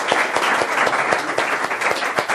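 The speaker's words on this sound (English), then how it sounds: "So let's all give him a round of applause for some great ice cream." An audience at a cooking demonstration gives sustained, brisk applause for an ice cream maker, the claps close and steady throughout.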